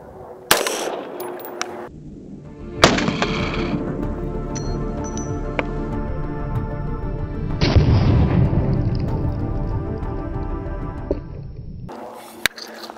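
Rifle shots from an AR-15 with an 18-inch barrel firing 5.56 green tip rounds at a Level 3 ballistic armor plate: a few loud, sharp blasts, each followed by a long rumbling decay.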